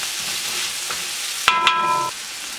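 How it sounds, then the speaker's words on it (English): A spoon stirs chili flakes through red lentil dal in a hot pan, giving a soft steady sizzle broken by a couple of sharp metallic clinks against the pan, heard close up. "Stir that up in there."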